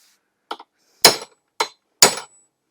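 A hammer drives a punch into an Angry Bear dovetail mount: four sharp, close metallic strikes, loud and unevenly spaced, with a short ring after each and no talking.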